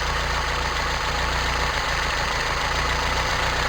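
Toyota Tercel 4WD carburetor engine idles close by with a steady, even low rumble and no pauses or revving.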